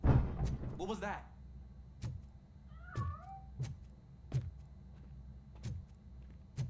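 A cat meows once, short and clear, in the video game RoboCop: Rogue City, while heavy thuds like footsteps fall at a regular pace around it.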